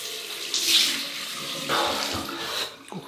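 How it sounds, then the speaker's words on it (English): Cold water runs from a bathroom tap into a sink for a post-shave rinse, a steady close splash that surges and shifts as hands move through the stream, with no talk. "Cold water rinse."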